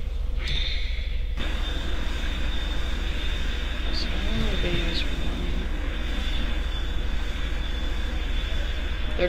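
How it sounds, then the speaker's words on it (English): Airliner taxiing to the gate at Greater Rockford Airport in a flight simulator game, a steady engine drone with a high whine running throughout, with faint speech beneath. "So we're gonna taxi to the gate and prepare for our next flight."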